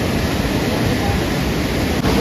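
Fast, heavy rush of a mountain river along the Kedarnath trek near Gaurikund, a loud, steady broadband roar filling the whole clip with no breaks.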